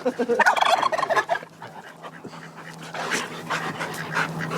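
Several large dogs, one weighing about 100 pounds, play and tussle with a puppy, giving bursts of gruff vocal noise, panting and scuffling, loudest early on and then steadier, with no talking.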